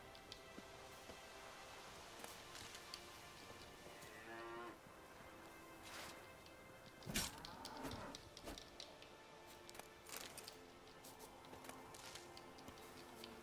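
Cattle mooing inside The Witcher 3, several drawn-out low calls spread across the scene among steady game ambience and occasional soft thuds, with no talk over them.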